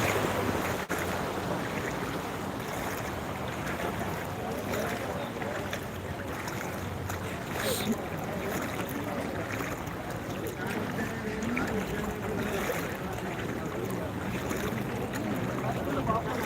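A car pushes through knee-deep floodwater after heavy rain in Dubai, a steady rushing wash of churned water and waves with wind noise, continuous and fairly even from start to end.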